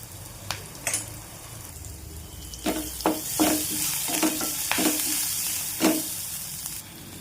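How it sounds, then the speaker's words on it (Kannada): Curry leaves dropped into hot oil with turmeric for jhunka hiss into a steady, bright sizzle, broken by several sharp clinks of a spoon against the pan. "ಸ್ವಲ್ಪ ಕರಿಬೇವು ಸೊಪ್ಪು ಹಾಕ್ತೀನಿ."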